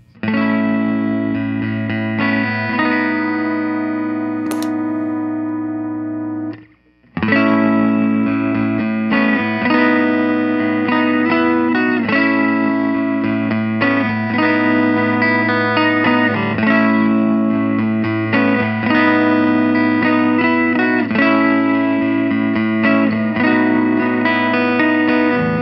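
An electric guitar running through a Source Audio ZIO front end boost pedal plays a continuous jangly, chorused chord part, loud and close, with one brief dropout midway and no talking.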